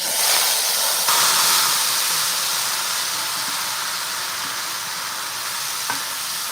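Water spinach stir-fries in a pan over a home gas stove, giving a loud, continuous sizzling hiss with steamy crackle and a few faint stirring scrapes. It stays close and steady, with no one talking.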